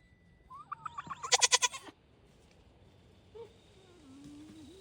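A tiny young goat gives a burst of loud, close, quavering bleats lasting about a second, preceded by a few softer calls, then quiet outdoor background with faint animal sounds.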